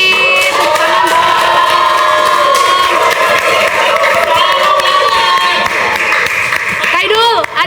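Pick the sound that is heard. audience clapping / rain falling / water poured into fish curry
audience clapping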